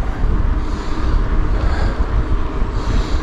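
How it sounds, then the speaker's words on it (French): Strong wind during a cross-country mountain bike ride buffets the microphone with a constant, gusty rumble and roar, loud and unbroken throughout. "le vent est arrivé."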